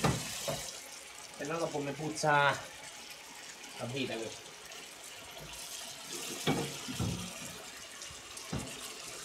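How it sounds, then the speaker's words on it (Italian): A kitchen tap runs in uneven bursts while a cutting board is washed, water splashing and hissing intermittently under steady Italian talk from a nearby man. "Devo lavare subito il tagliere"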